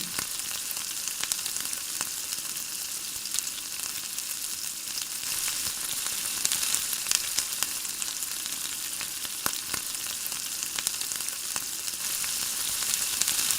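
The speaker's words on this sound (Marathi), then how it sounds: "आलं लसूण मिरचीची पेस्ट चांगली कांद्यामध्ये मिक्स होऊन चांगली भाजून घ्यायची" Ginger, garlic and chili paste fries with onions in a pan, giving a dense, continuous loud sizzle with faint stirring scrapes, close up and with no voices.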